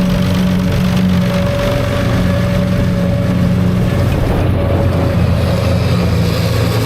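A 1690 David Brown tractor and a New Holland forage harvester drone steadily and loudly while working silage in a field, a continuous low engine roar with no talk.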